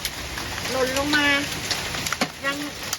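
Heavy rain with hailstones falls around a house and onto its balcony, a continuous wash of patter. A voice rises and falls over the downpour.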